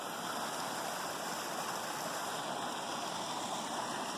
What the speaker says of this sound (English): We got a pretty cool creek over here.